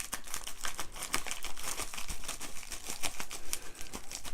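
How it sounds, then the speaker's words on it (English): Scissors cutting open a shipping package holding junk constitutional silver coins, a close, continuous crinkling and snipping of packaging material with sharp irregular clicks and no talk. "We're going to go ahead and cut this thing open."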